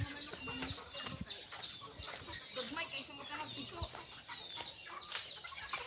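Native Visayan chickens cluck and chatter in a busy farmyard, with occasional bird calls and people talking nearby throughout.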